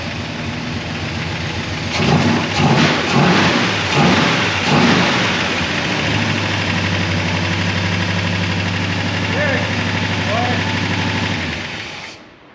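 A 1966 Oldsmobile 442 with an Edelbrock carburetor idling around 850 RPM, a loud, close, rumbling V8 lope with a few rhythmic revs early on before settling into a steady idle that cuts off at the end.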